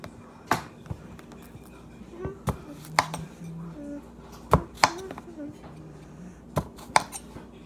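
Cucumber being chopped on a board for a salad, a handful of sharp, separate knife knocks spaced irregularly, with quiet room sound between them.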